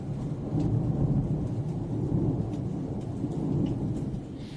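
Heavy rain pours over the Albert Park race track in Melbourne under grey skies, with a deep, rolling thunder rumble that swells and holds steady throughout, loud and close.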